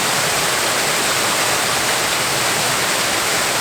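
A waterfall at the Fiery Gizzard gives a dense, unbroken roar of rushing water, loud and steady throughout with no other sounds.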